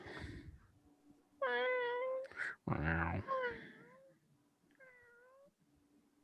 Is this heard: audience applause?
no